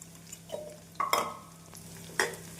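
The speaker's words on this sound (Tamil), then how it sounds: "பூண்டு சேர்த்து வெங்காயத்துடன் நன்றாக வதங்கவும்" Onion and garlic sizzle and crackle in a pan, with a few louder bursts of stirring and scraping over a steady low hum.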